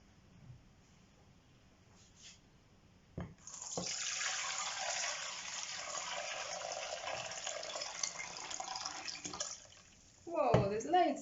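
Homemade apple cider vinegar pours through a plastic strainer into a bowl, a steady splashing trickle starting after a few quiet knocks and running for several seconds, then louder clattering and a brief exclamation at the end.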